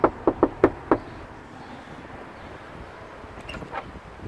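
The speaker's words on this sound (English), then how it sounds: "let's knock on the door" Five sharp knuckle raps on a cottage door come in a quick, uneven burst, followed by quiet outdoor air and a couple of faint taps near the end.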